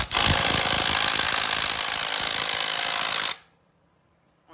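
A Hyper Tough power drill runs loud and steady at close range for about three seconds while working on an SBC 350 engine in a Squarebody truck, then cuts off abruptly, leaving near silence.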